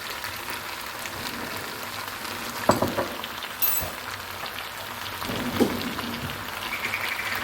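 Soy sauce goes into pepper chicken frying in a pan, giving a steady close sizzle and crackle with a couple of sharper spattering hisses partway through.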